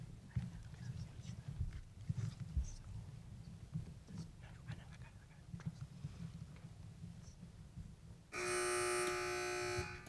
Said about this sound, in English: Teams, wait for the buzzer if you'd like to answer.